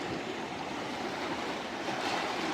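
Sea waves wash against rocks at the water's edge in the Greek town of Rethymno, a steady broadband rush of surf that swells slightly toward the end, with no voices.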